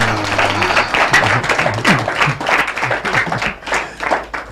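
A group applauding with dense, steady clapping that fills the whole stretch, close and loud, with faint voices underneath.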